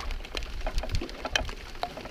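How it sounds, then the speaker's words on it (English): Light rain pattering steadily on a river and canoes during a May canoe trip through Temagami in Northern Ontario, a soft continuous patter with scattered nearer drips, fairly quiet and with no voices. "I'm not hating this rain one bit"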